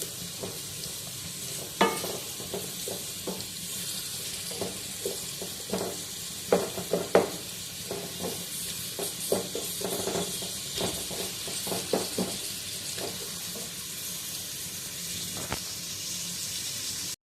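Five large chopped onions frying in a pan for chicken tikka biryani, a steady soft sizzle broken by scattered clinks and scrapes of stirring, with no talk.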